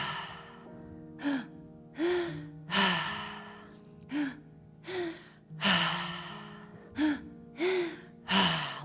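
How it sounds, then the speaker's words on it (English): During a guided breathwork exercise, deep breaths come one after another, each a loud, close inhale or exhale with a rushing, gasp-like edge, about ten in a steady, slightly uneven rhythm and no talking. "Let's do 5 last breaths together."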